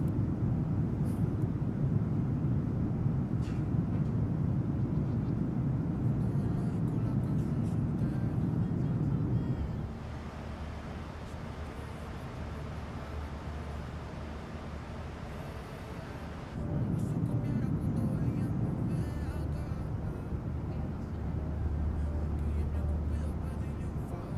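In Microsoft Flight Simulator, a United Boeing 737-900ER plays a continuous jet engine drone with a heavy low rumble. It drops to a quieter, thinner tone partway through, then swells back, steady and with no voices.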